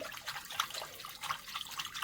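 Water pours and trickles close by in a brief, uneven splashing stream with small drips.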